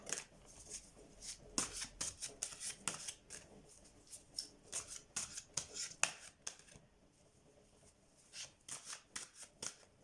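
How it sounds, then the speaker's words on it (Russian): A large deck of big tarot cards is shuffled and drawn, giving quick riffling and flicking bursts in irregular clusters, close and fairly quiet, with no talking. "И достанем три карты"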